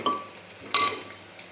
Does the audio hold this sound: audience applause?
no